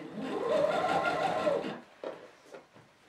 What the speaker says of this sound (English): So everything is getting sewn.